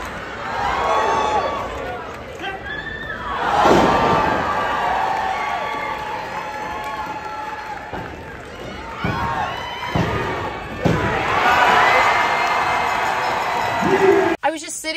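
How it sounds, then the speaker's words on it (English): A crowd at a wrestling match cheers and shouts, loud and roomy with children's yells and high voices rising and falling across the span, with a sharp thump near the end. "when you hear the crowd cheering for her"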